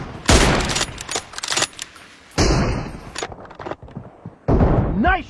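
Loud bursts of gunfire in a mobile shooter game, several clustered volleys separated by short pauses, with a higher whistling effect near the end and no talking.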